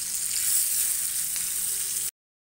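Bangda fish (mackerel) frying in oil in a pan makes a dense, even, close sizzle that holds steady for about two seconds, then cuts off abruptly into silence.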